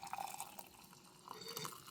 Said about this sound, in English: Let me go ahead and get the water in here.